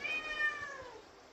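A house cat meowing in a home kitchen during cooking, one drawn-out meow that falls in pitch and fades, fairly close and alone.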